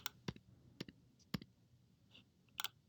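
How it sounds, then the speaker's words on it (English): Arrow keys on a computer keyboard are tapped in a sparse series of about six or seven crisp, close clicks, some in quick pairs, against a quiet background with no talk. "I'm just going to use my arrow keys, shift a few things around just for some readability."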